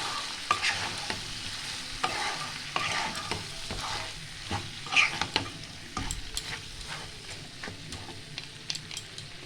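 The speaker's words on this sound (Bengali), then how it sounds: "আবারও একবার নাড়াচাড়া করে নেব।" Mutton rogan josh being stirred in a pan, with repeated scraping strokes and clinks of the spoon over a low sizzle, irregular and close, with no voices.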